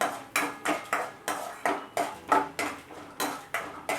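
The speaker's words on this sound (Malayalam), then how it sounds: "ഇനി ഒന്ന് ഇളക്കി കൊടുക്കും." Chana dal, urad dal and asafoetida are stirred in a pan, a spoon scraping and knocking against the metal in a steady rhythm of about ten strokes, clear and close, with no talking.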